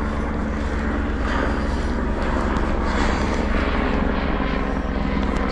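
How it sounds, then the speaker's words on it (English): A continuous loud rotor and engine drone of an oil-rig flight-path helicopter, steady and close overhead at the Ythan Estuary coast, with no talking. "Got a helicopter today."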